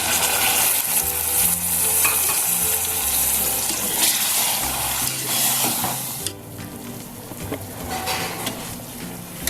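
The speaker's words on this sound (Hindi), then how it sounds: "तो ये मैंने 3 टमाटर जो है वो ग्राइंड करके रखे हुए हैं, तो ये इसमें डालेंगे।" Ground tomatoes added to frying chicken masala for chicken kachnar, a loud sizzle under steady stirring and scraping in the pan, easing off near the end.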